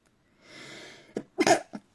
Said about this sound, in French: Je sens que je dois éternuer.